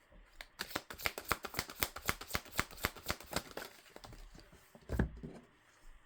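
A deck of cards being shuffled by hand gives a rapid, soft riffling patter for several seconds, quiet and close, ending with a slap as a card is pulled.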